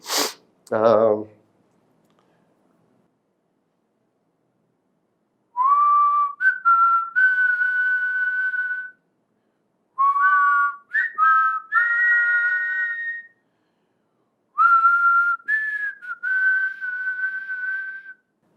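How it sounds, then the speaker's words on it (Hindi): A person whistles a tune in three sustained melodic phrases separated by silences, clear and close, after a short sniff or breathy noise at the start. "मेरे टेस्ट में पास हो गए, सीटी बजा लेते हो।"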